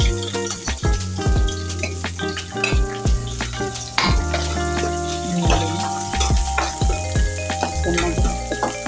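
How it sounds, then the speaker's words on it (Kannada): Onions fry in hot oil after mustard seeds have spluttered, a crackling sizzle beneath frequent metallic clanks and knocks of a spoon against the pan, close up and busy. "ಸ್ವಲ್ಪ ಸಾಸಿವೆ ಕಾಳು ಹಾಕ್ಕೊಂಡಿದ್ದೀನಿ ಇದು ಸಿಡಿಲಿಟ್ಟು ನೀರುಳ್ಳಿ ಹಾಕಿ ಫ್ರೈ ಮಾಡ್ಕೊಳ್ಳಿ ನೀರುಳ್ಳಿ ಹಾಕ್ತಾ ಇದ್ದೀನಿ"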